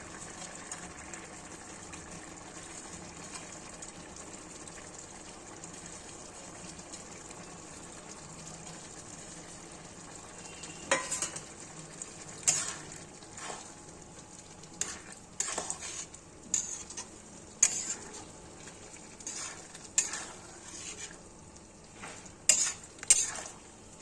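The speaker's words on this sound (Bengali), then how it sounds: "এবার ভেজে রাখা মাছগুলো এর মধ্যে সুন্দর করে ছড়িয়ে দেব" Fried kachki fish being stirred into a potato curry in a pan, with a faint background hiss that gives way to a series of scraping, clattering stirs that grow more frequent in the latter half.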